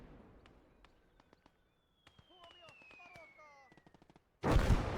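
Gunfire in the World War II strategy game Gates of Hell: Ostfront, with sharp evenly spaced single shots and bursts, a rising whistle and tonal ringing, then a loud roaring blast at the end.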